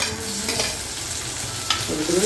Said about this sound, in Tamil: ரெண்டு தக்காளியை போட்டு வதக்க போகிறோம்